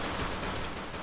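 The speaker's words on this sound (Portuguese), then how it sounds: "Tiro." Distant, muffled gunfire in the mobile battle royale game Free Fire, a dense, noisy rattle of shots blurred together at low volume.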